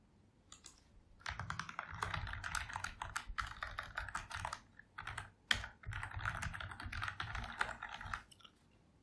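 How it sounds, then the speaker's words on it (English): Quiet, close-up clatter of computer keyboard keys in quick irregular bursts, pausing briefly between runs of typing, with no voice over it. "I will type the price as"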